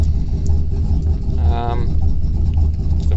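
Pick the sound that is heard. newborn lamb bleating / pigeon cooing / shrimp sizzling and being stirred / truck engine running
truck engine running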